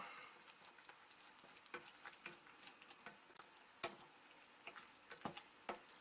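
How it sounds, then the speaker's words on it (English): Rice is stirred into a porcupine meatball mixture with faint scrapes and scattered light clicks of a utensil against the bowl, quiet and close, with no talking. "And then just stir in the rice."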